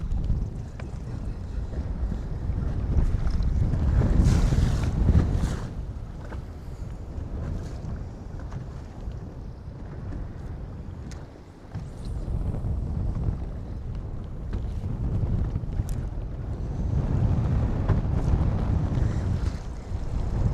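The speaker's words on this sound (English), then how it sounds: "this wind is so hard" Strong gusting wind buffets a fishing boat on a lake during bass fishing, a steady broadband roar with louder surges near the start and end, water lapping faintly beneath and no talking.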